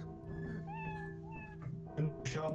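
A cat meows in the video game Lethal Company, giving a few drawn-out, wavering calls close up. Faint game sounds or background noise sit beneath it, and a short louder bump comes near the end.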